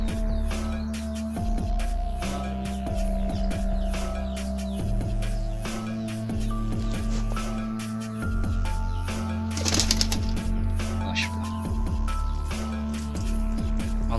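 Pigeons returning to a small backyard coop coo and flutter, soft repeated low cooing calls layered over one another with occasional wing flaps and scuffling, fairly close and steady throughout.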